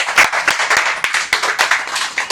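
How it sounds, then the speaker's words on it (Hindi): An audience at a Janmashtami camp applauding a little girl, brisk rhythmic clapping from a small group that stays close and loud throughout, with no talk over it. "तो मैं सबको निवेदन करूंगी कि ये इतनी छोटी बच्ची के लिए ताली पाड़िए"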